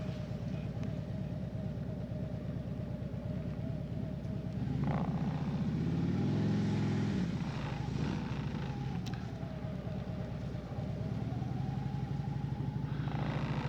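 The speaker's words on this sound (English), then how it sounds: "Quite a few vehicles" Vehicles pass along a scenic loop road near a large store, a steady engine drone and tire rumble swelling as one goes by mid-way, with a faint rising whine near the end.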